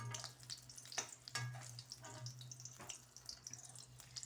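Kebabs in batter frying in oil until golden, a faint, steady sizzle and crackle with soft scattered pops and no talking.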